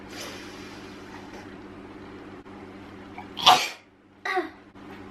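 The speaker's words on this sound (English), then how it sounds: "I'm gonna sneeze." A sudden loud sneeze over a steady low hum, followed moments later by a second, smaller sneeze or cough.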